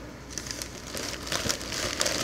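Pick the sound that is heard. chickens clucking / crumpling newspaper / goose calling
crumpling newspaper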